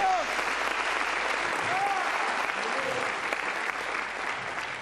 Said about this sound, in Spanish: Cuando le dan un aplauso de alabanza al Señor